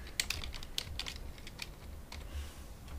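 Quick keystrokes on a computer keyboard as a name is typed in, a short burst of clicky taps up close that pauses briefly before a few final presses, with no talking.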